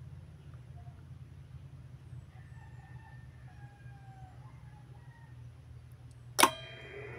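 A safe load control system transfers power after a surge, giving a single sharp click near the end. The click rises out of a quiet background with a low steady hum.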